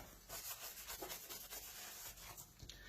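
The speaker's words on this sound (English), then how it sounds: "So it's just a little bit of scrubbing." Steady back-and-forth scrubbing of rust off the surface of a steel tool, close and continuous with rhythmic rubbing strokes, no voices.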